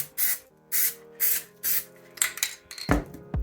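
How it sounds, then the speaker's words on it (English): Four short hissing sprays from an aerosol can onto the back of a beer can label in a regular rhythm, followed by rubbing and scraping handling noises nearby. "Take this one, got too much crap up here, spray the backside."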